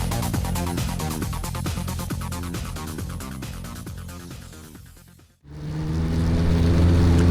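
A Legends race car engine rumbles and revs as the car rolls out for practice on a muddy dirt track, loud and close with a brief dip before a steady engine drone returns.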